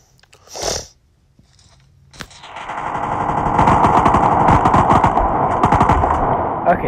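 Rapid automatic gunfire from the mobile shooter game Modern Strike rattles on loud and close for several seconds, preceded by a single sharp shot; no talk over it.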